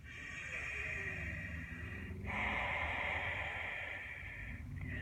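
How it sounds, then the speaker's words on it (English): Slow breathing through the nose, alternating nostrils, with soft airy inhales and exhales close up over a steady background hiss, no talking. "And you can also do alternate nostril breathing."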